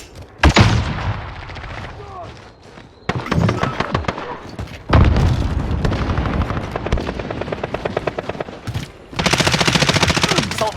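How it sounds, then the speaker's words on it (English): Video game combat with a flashbang and loud automatic gunfire, including a pistol and MP5, in dense rapid bursts broken by brief gaps, close and intense. "Flashbang out."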